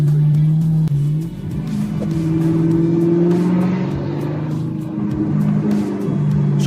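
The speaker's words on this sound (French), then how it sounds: "Je crois que ce que j'apprécie le plus dans cette voiture, c'est le bruit." A Maserati's engine revs loudly and up close in a home garage, a sustained harmonic roar that climbs and falls through several throttle blips, with no talking.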